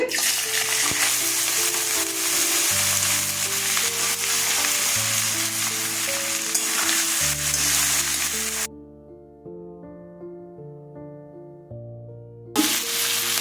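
Onions sizzle loudly in hot oil with a constant crackling hiss, accompanied by background music; the sizzle briefly cuts out before returning.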